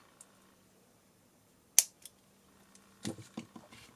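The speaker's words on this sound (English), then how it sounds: "then we're going to cut off the excess of this guy" Scissors snip off the excess of a wrapped jewelry cord or wire: one sharp, close snip, followed by a few small clicks and handling sounds in an otherwise quiet room with no talk.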